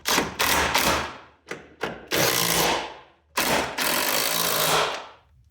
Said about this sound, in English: I'll go ahead and get these three snug down with my drill.